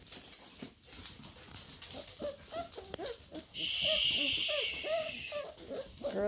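Several young puppies of a litter make brief whimpering and squeaking calls in a quiet indoor setting, scattered over a steady background hiss, with a louder high-pitched stretch toward the end.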